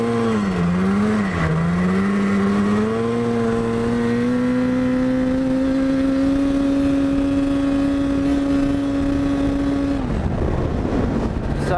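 Snowmobile engine revving hard while drifting, a loud close droning whine that dips, then rises and holds a steady high pitch before cutting off into rushing wind noise near the end.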